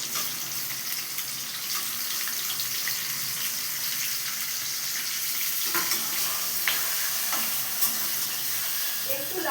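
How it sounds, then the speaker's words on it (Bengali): Chopped onions, four of them cut into large pieces, frying in hot oil for a chicken curry, with a steady broad sizzle throughout and occasional stirring clinks near the end, no talking. "পেঁয়াজগুলো আমি আস্তে আস্তে ছেড়ে দেবো তেলের মধ্যে।"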